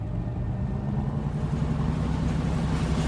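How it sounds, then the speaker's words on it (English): Ship engines starting up at sea give a steady, deep, loud rumble with a wash of broadband noise, continuous and close throughout with no voices. "Listen, the engines are starting again."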